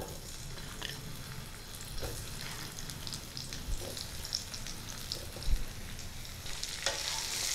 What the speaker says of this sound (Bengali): নুন হলুদ দিয়ে মেখে রাখা বেগুনগুলো তেলের মধ্যে ছেড়ে দিচ্ছি।